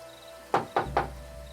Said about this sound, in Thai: มีเสียงเคาะที่หน้าประตูของออฟฟิศ